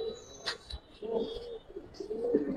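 Silver Giribaz pigeons cooing close by in soft, low, repeated rolling phrases, with a few faint chirps and light background noise between the calls, and no voices.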